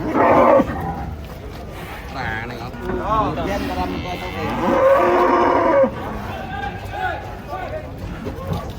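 Belgian cattle at a livestock market low repeatedly, several loud drawn-out moos near and far, mixed with crowd chatter and a dog barking in the background.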